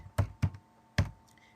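Three distinct key presses on a computer keyboard while typing a search into ArcGIS software, sharp close taps with short gaps between, the last one set apart by a longer pause.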